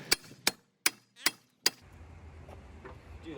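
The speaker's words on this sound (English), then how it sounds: "we need to hammer this side" A hammer strikes the body panel of a crashed drift car five times in a steady rhythm, sharp metallic clanks close by, then low background shuffling.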